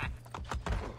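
Rhythmic clip-clop of horse hooves trotting at a steady pace in the video game Assassin's Creed Brotherhood, fairly close and continuous, with no voices.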